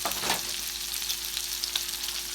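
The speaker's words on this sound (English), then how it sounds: "you want to saute those sausages up in your, this is a cast iron skillet" Sausages sauté in a cast iron skillet, giving off a soft, even sizzle with a few faint pops and ticks, heard quietly and without any voices.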